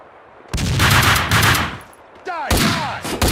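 Gunfire in the video game Max Payne 2, loud bursts of shots that crackle across the whole clip, broken by a short lull and then resuming sharply.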